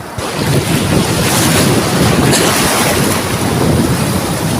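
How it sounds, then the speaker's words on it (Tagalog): Rough, deep sea with a strong current pounds the beach in a loud, continuous roar of crashing surf, mixed with wind buffeting close to the microphone and no voices. "medyo malakas yung agos medyo maalon at malalim"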